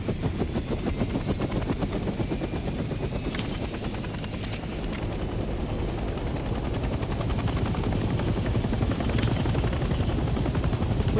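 A military helicopter in the World War II shooter Hell Let Loose, its engine and rotors producing a steady, loud, rhythmic chopping drone that holds without a break, with a few faint high tones above it.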